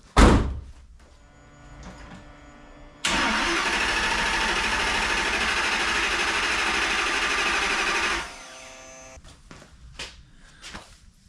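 A Ford Mustang fitted with a V10 engine starts after a faint knock: the engine catches abruptly into a loud, steady running roar for about five seconds, then cuts off into quiet clicks and rattles.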